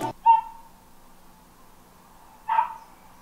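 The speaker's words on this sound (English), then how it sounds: "I can hear the neighbor's dog outside as well." A neighbour's dog left outside barks twice, two short, fairly distant yelps separated by a quiet pause of about two seconds.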